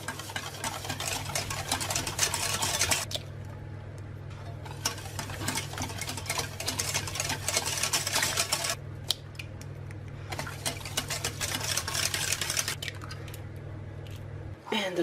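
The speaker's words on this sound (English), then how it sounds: "I'll do them one at a time and whisk them in" Eggs whisked one at a time into gluten-free chocolate brownie batter in a bowl, a continuous close rhythmic scraping and tapping of the whisk with brief pauses, over a low steady hum.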